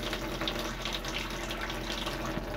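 Tap water runs steadily into a blocked motorhome sink that is filling rather than draining, a continuous close splashing and gurgling stream with no voices.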